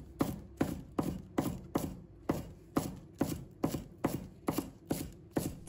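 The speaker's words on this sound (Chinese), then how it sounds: "把它切成葱花。" A knife chops green onions into small rings on a cutting board, about a dozen evenly paced, crisp knocks, close and clear with no speech.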